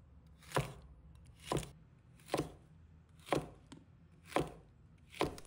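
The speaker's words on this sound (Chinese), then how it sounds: "把洗好的秋葵头尾切掉不要， 再切成小段，切均匀一些。" Six evenly spaced knife chops cut washed okra into small pieces on a board, each a crisp close thunk about a second apart, with no talk.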